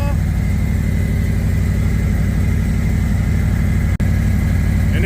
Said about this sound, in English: And there's those clockwork exhaust. It's so lame. Doesn't really sound much different than the factory to me.